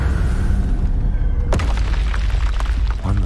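A Confringo blasting curse detonates in Hogwarts Legacy with a single sharp, loud boom against busy combat sounds and music, followed by a rumbling crackling tail.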